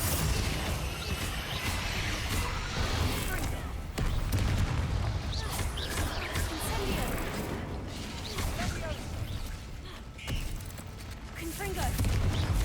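Repeated Confringo spell blasts crack and boom during a Hogwarts Legacy catacomb fight, with several loud impacts spread over sustained combat noise and a voice occasionally heard.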